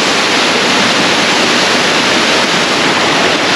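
A waterfall rushes in a steady, loud, close roar of white noise with no break, heard on its own.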